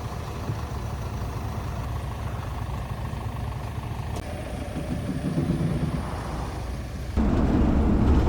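A Mercedes Sprinter camper van on the move, its engine and road rumble steady and close throughout, swelling a little louder near the end with no voices over it.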